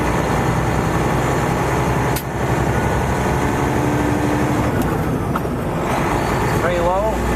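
A heavy haul truck's diesel engine drones steadily and loudly from inside the cab while the driver splits the gears, with a brief dip in the engine note as a shift happens, and someone talks over the noise.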